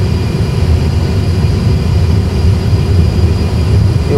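Airbus A320 engines roar at takeoff thrust during the takeoff roll, a loud, steady broadband rumble with continuous low-end power heard from inside the cockpit.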